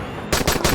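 Automatic gunfire from the zombie survival video game Dying Light rings out in rapid bursts after a brief quiet lead-in, loud and close, with three or four clustered shots.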